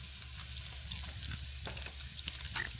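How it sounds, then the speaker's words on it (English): Comfort food with black pepper and cold butter in a pot, stirred over heat with a faint steady sizzle and soft scraping stirs, close and quiet. "So I'm gonna stir it on up."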